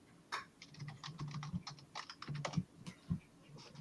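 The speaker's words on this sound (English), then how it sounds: "I hear you typing" Rapid, uneven clacking of keys on a computer keyboard, quiet and fairly close, with short bursts and brief pauses over a few seconds and no voices over it.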